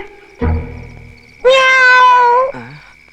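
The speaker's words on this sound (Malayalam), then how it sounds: "ഇവിടെ എന്തോ ഒരു ശബ്ദം കേട്ടു. വല്ല പൂച്ചയോ മറ്റായിരിക്കും." A cat gives a couple of clear, close meows: a short one first, then a long drawn-out cry, ending with a brief lower mew.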